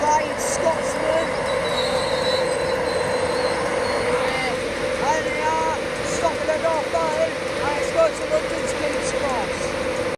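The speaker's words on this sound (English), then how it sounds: "Fast train about to go past Northallerton." A fast train rushes through Northallerton station at night, a steady loud rumble of wheels on rails with intermittent high squeals and chirps, continuous throughout.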